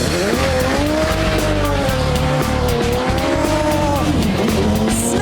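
A Radical race car laps a track, its engine screaming loud and close as the revs rise and fall through gearshifts, with tyres squealing through the corners.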